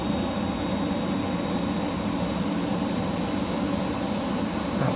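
A Hawk T1 trainer jet in Microsoft Flight Simulator 2020 at around 200 knots with the throttle nudged up: a loud, steady jet engine roar with a thin high whine running through it, constant and unbroken.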